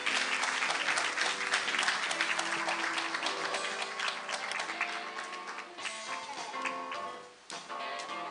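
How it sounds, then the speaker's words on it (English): An audience at the SIGNIS World Congress closing ceremony in Seoul applauds loudly and continuously, with a dense wash of clapping that swells at first and then tapers off slightly toward the end. "Give him a round of big applause."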